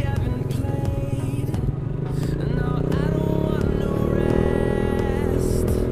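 A motorcycle with a modified, non-stock engine is ridden steadily, its low engine drone running continuously and close over overcast outdoor riding, with some faint background noise.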